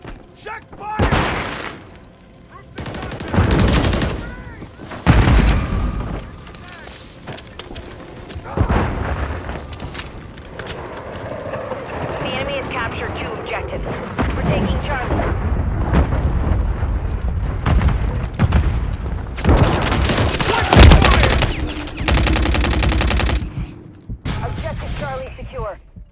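Modern Warfare 3 game gunfire: repeated loud bursts of shots and booming blasts in clusters, with squad voices calling out over the shooting.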